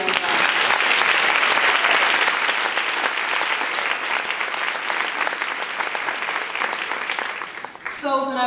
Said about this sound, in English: So what I'd like to do is just everyone give an applause for each other